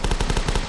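Rapid automatic gunfire from The Last Stand zombie shooter, with a tight burst of about ten evenly spaced shots fired close and loud with no pause.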